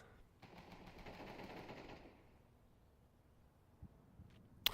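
Automatic gunfire from a Counter-Strike 2 match, a dense rattling burst for about two seconds that fades into quieter game ambience, with a sharp isolated shot near the end.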